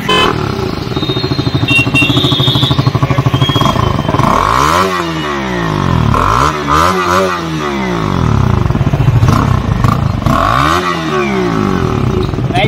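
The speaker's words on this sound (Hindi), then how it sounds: "आइए पहले इसका एग्जॉस्ट सुनते हैं जो उसमें शोरूम फिटिंग आती है" A KTM Duke 250 motorcycle idles and revs on its stock factory exhaust. The engine is loud and close, with repeated throttle blips rising and falling through the clip and no one talking.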